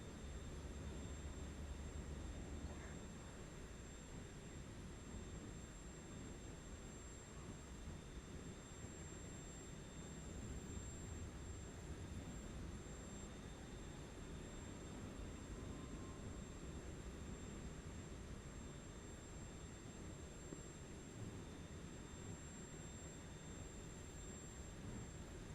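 Steady engine drone of a Twin Otter aircraft in a flight simulator game, a continuous broadband hum with a faint high whine, even and unbroken throughout, with no talking.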